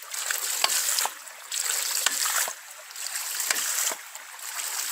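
Hydraulic ram pump on a farm pushing out dirty water, a continuous gushing splash broken by regular sharp knocking pulses of the pump's valve, recurring roughly every half second to second, close and fairly loud.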